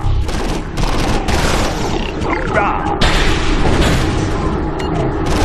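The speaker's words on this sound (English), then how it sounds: "I love the sound of explosions" Dense, continuous battle noise in the game Mental Omega with booms and rapid gunfire bursts, someone shouting briefly over the din.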